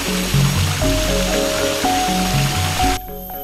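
Loud, close rushing stream water flowing steadily in a river, a dense continuous roar with no voices over it, dropping away abruptly near the end.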